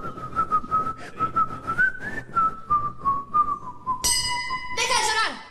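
A sustained wavering whistle from a person on a TV game show, carried over low crowd noise and murmuring, then cut into by a bright chime and bell-like electronic tones near the end.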